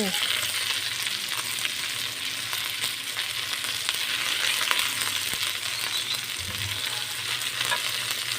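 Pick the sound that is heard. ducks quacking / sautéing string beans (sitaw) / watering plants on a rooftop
sautéing string beans (sitaw)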